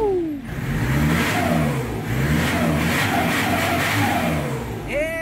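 A 2003 Nissan Frontier with a homemade 3.5-inch straight exhaust revs in repeated rising pulls, loud and near, the engine note climbing and falling several times without talk.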